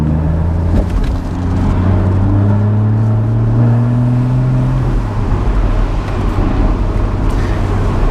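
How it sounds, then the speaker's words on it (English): A Porsche Boxster GTS engine revs hard with its exhaust valves open, a loud, close rising drone that climbs in pitch for several seconds, then drops back to a rumbling idle. "It loses the pops and bangs in the normal mode, but obviously if you hoof it, it does open the valves because it needs to get the gas out."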